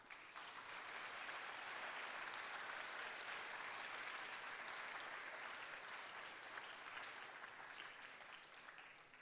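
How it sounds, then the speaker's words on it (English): Sustained audience applause at a school awards convocation honoring sophomores, thick and even throughout, heard at a moderate distance with no speech over it. "Let's give our sophomores a round of applause."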